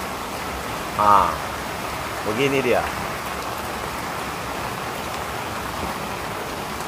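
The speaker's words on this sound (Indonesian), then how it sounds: "Hujannya lumayan deras." Fairly heavy rain falls steadily at a tiger shrimp pond during harvest, a constant broadband hiss on the surroundings while someone briefly speaks over it.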